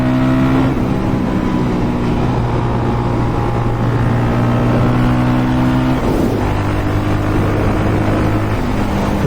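A Suzuki DRZ400 supermoto motorcycle rides along twisty roads, its single-cylinder engine droning loud and steady at high revs, with a brief dip and shift in pitch partway through before pulling on again.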